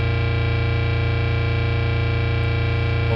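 Moog Grandmother analog synthesizer mixed in parallel with an electric guitar through a pedal switcher, a sustained, thick, distorted drone holding steady and loud for a few seconds.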